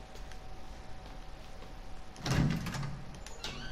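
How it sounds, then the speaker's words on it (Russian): A door opening in the survival horror game Resident Evil 7 Biohazard, aboard a ship, heard as a single mid-loud creak and thud rising out of a quiet ambient hum, with a brief scrape trailing after it. "Дверь."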